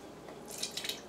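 Vanilla almond milk is poured off from a container in a kitchen, giving faint, brief liquid trickles and a few soft drips, heard quietly and alone.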